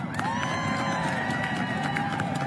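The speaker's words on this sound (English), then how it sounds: "Let's cheer for the men and women of USAID" Crowd cheering and shouting for USAID workers at a political rally, a steady wall of voices and whoops that stays loud and dense throughout without letting up.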